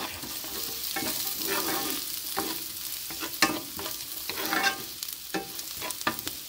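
Garlic toasting in a pan over lowered heat hisses with a steady, moderately loud sizzle, punctuated by repeated stirring scrapes and taps.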